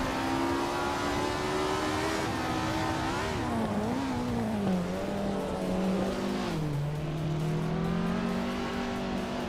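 Race cars leaving the grid at the start of a race, led by a 1964 Ferrari 158: a loud, steady engine drone whose pitch rises and dips as gears change, with other cars blending in.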